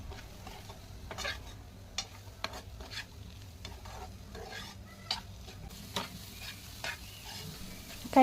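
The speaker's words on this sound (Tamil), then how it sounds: "தேவையான அளவு மிளகாத்தூள் போட்டு கைவிடாமல் கலரிட்டு வைக்கணும்" Food frying in a pan with salt and chili powder being stirred, with repeated scraping strokes of a utensil against the pan over a soft low sizzle, fairly quiet and close.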